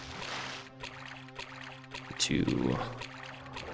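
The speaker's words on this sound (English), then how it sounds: "and we're going in the water" A character wades into water in the video game Daggerfall Unity, making a short gushing splash that rises and fades, with someone talking quietly before it.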